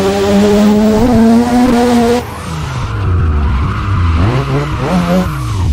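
A car drifts in a racing video game with loud, sustained tire squeal over a revving engine whose pitch rises and falls through the slide.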